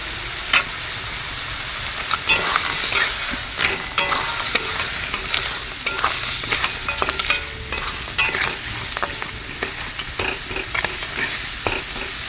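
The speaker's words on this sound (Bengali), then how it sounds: "কাঁকড়াটা হালকা একটু ভেজে নেবো" Crab fries with spices in a pan as a loud, constant sizzle, broken by repeated scraping and clattering stirs. No one speaks.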